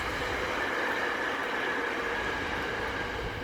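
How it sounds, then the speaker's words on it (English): Steady rumble and roar of a train going past, a continuous broadband wash with a faint high squeal running through it. "You can hear the train going by"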